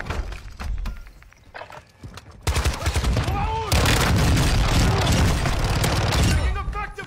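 Video game gunfire: scattered shots at first, then dense sustained bursts of automatic fire with rapid rattling volleys, mixed with voices and other game sounds.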